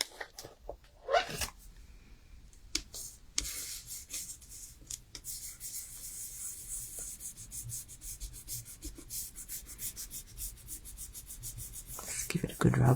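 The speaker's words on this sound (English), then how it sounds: "Just give it a good rub." Fingers rub firmly over paper during card making, giving a close, continuous dry scuffing that carries on for several seconds with brief pauses and a few louder handling knocks at the start.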